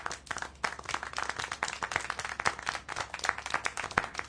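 Scattered hand clapping from a scene in the adventure game Syberia: The World Before, a handful of claps in an uneven rhythm over a soft background.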